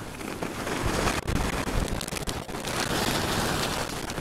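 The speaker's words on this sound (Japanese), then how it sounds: "なんかちょっと雨っぽいの降ってきた" Light rain turning to sleet falls during a ski run, a steady, broad hiss of drops and wind noise against the microphone, loud and continuous with a couple of brief dips.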